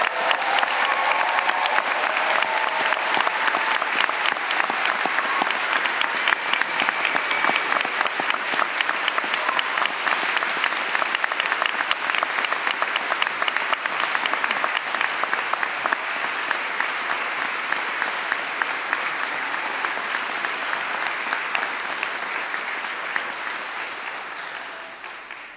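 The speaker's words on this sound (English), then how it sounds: "Let's have one more round of applause for all of our graduating students." Sustained, loud applause from a graduation convocation audience honoring graduating students at Syracuse University's Maxwell School, dense even clapping throughout that tapers off slightly at the end.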